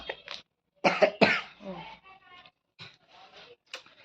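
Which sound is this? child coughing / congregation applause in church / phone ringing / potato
child coughing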